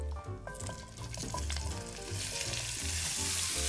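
Beef searing in a hot pan, a close, continuous sizzle that swells louder and brighter toward the end, with faint utensil clinks and no talk.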